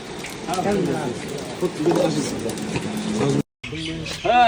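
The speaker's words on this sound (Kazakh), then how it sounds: "Құстар сайрап жатыр." Birds sing and pigeons coo outside a mosque, faint chirps mixed with people talking nearby, ending with a brief burst of voice-like warbling.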